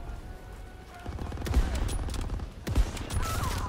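Sniper rifle shots in Call of Duty WWII boom out twice, each a sharp report with a short tail, over a steady din of distant battlefield gunfire.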